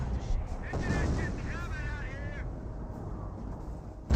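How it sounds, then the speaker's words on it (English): Distant 25-pounder artillery barrage explosions rumble through the Company of Heroes battlefield, a dense, continuous booming with crackling fire and a short whistling sound. "We've got a 25 pounder barrage or something for big explosions there."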